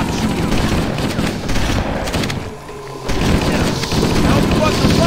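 Loud, dense gunfire and explosions fill a Halo: Combat Evolved campaign battle on the 343 Guilty Spark level, with rapid automatic bursts that dip briefly near the middle, then surge again while voices talk over the fighting.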